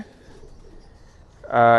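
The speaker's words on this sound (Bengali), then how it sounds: "এই যে এটা একটা ব্লু বার কবুতর আসছে" A blue bar high flyer pigeon lets out a single loud, close coo at the very end, after a near-silent, quiet stretch.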